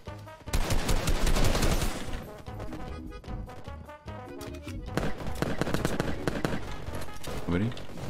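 Dense bursts of rapid gunfire and explosive cracks in a Fortnite match, loud and up close, coming in waves with short gaps while players talk over the action.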